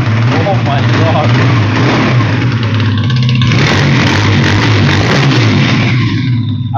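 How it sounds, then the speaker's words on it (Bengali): A big 8.5-foot-long cruiser motorcycle's engine runs loud and close, a steady low throbbing rumble with brief revs, while a person talks over it. "এই বাইকটা একটু সাউন্ড শুনে নেই"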